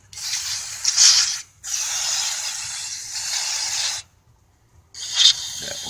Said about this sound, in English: I'm going to spray a little of this in there on the contacts